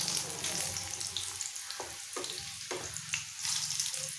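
Fish egg cutlets fry in a pan with an even crackling sizzle and a few spatula taps as the pieces are turned, with no speech.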